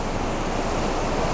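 A river rushes right beside a road near Karakol, Kyrgyzstan, a loud, unbroken roar of flowing water with some wind buffeting, and no voices.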